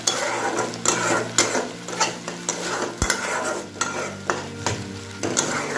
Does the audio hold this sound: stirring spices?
yes